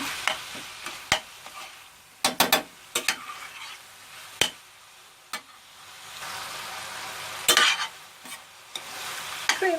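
Onions frying in a pan for a baked aubergine and minced meat dish, with a steady close sizzle broken by repeated sharp clinks and scrapes of a utensil against the pan.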